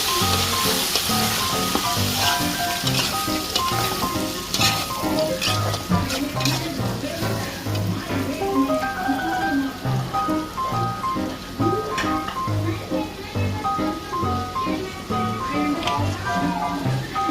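Beef lungs (fapsa) frying in a pan with browned onions give a dense, continuous crackling sizzle, with occasional stirring clatter over it.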